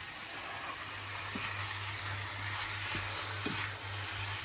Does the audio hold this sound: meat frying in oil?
yes